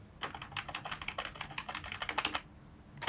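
Fast, close clattering keystrokes on a computer keyboard during a Windows 11 install on an Asus motherboard, a dense run of taps lasting about two seconds before stopping.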